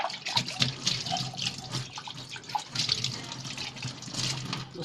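Water runs from a kitchen tap during deep Ramadan kitchen cleaning while dishes and lids are washed, with uneven splashing, dripping and clinking close by, rising and falling in bursts.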